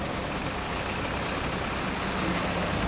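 Trucks maneuver and turn around in a traffic jam, a dense, continuous rumble of heavy engines filling the air at moderate distance, with no voices heard.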